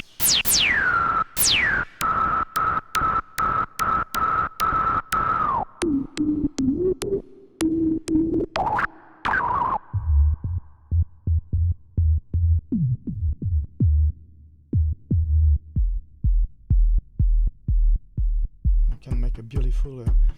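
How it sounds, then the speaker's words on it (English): A Moog MultiMoog synthesizer plays percussion made from its noise source, sharp hits in a steady rhythm, shifting from high tonal sweeps to deep booming kick-like pulses, loud and close with no talking. "you can do a lot of things with the noise. You can do percussion like that"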